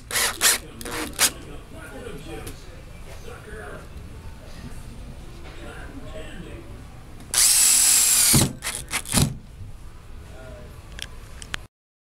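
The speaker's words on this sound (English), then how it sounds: "you're gonna screw in 2 screws to hold it up on either side" A power drill drives screws into a Super Chexx table hockey base in one loud, whirring burst about a second long, surrounded by quieter handling clicks and a person talking throughout.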